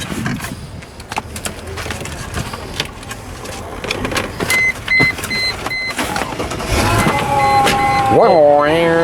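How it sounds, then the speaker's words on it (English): Used car at a dealer-only wholesale auto auction, engine running with a continuous belt squeal, a steady tonal whine over the motor that rises and bends near the end, with people talking nearby. "like a permanent belt squeal"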